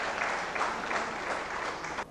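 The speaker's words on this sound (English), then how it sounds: "let us give a big round of applause to his visionary leadership and dedication to excellence" Audience applause at an award ceremony, a steady dense wash of clapping that holds evenly for about two seconds before cutting off abruptly.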